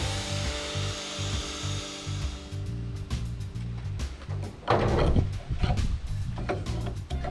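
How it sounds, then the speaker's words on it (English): A power wire wheel scrubs the fire-damaged engine compartment of a 1977 Ford F250 XLT pickup. A steady, close, loud abrasive grinding whir runs over a low motor hum, with harsher rasping bursts toward the end. "that'll also bust out the wire wheel as well"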